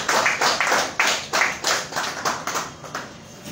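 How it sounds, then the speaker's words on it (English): At a Liberian–French development funding signing ceremony, the audience claps in a loose, reverberant rhythm of roughly two claps per second, gradually fading over a few seconds. "So I think we should really be clapping for you."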